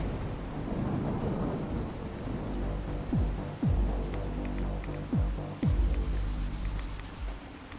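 A thunderstorm in Fallout 4's Far Harbor, with heavy steady rain hissing throughout and several deep rolling thunder rumbles in its second half.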